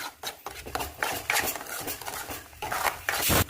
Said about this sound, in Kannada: ಎಣ್ಣೆಗೆ ರುಬ್ಬಿಟ್ಕೊಂಡಿರೋ ಮಸಾಲೆ ಇದನ್ನು ಚೆನ್ನಾಗಿ ಹುರ್ಕೋಬೇಕು